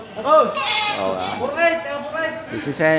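Goats bleating at a livestock market on a rainy day, several animals calling in overlapping wavering cries that rise and fall close by, nearly continuous across the moment.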